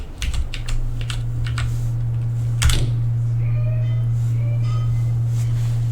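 Typing on a computer keyboard: close, quick bursts of key clicks with scattered taps and one louder clack, over a constant low electrical hum; no voices.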